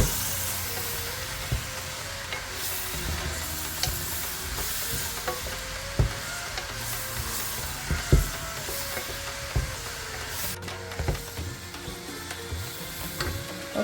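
Kerala-style beef curry with spices sizzles and simmers in a pan, giving a steady frying hiss broken by repeated sharp clicks and scrapes from stirring.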